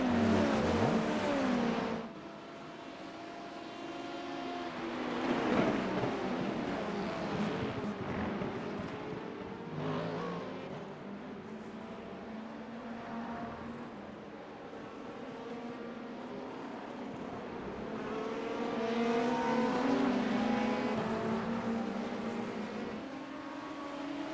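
LMP2 and GTP prototype race cars on track in iRacing during an IMSA race, engines howling and rising through gears, braking hard as cars bunch up, several engines overlapping at moderate volume.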